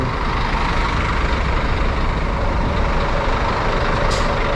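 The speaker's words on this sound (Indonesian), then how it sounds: "Oke, jadi kita udah sampai di terminal." Heavy buses idle and rumble loudly at a TBS bus terminal in Malaysia, a steady low engine drone filling the space with a brief hiss of air brakes near the end.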